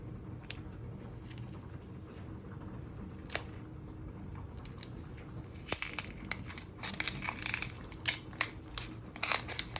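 Onion skin being peeled off in layers by hand, giving faint close crinkling and papery tearing with a few sharper crackles near the end, with no talk.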